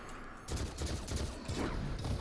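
Celestial Fire ability shots in a sci-fi video game, a dense burst of crackling blasts starting abruptly after a brief quiet moment and continuing loudly to the end.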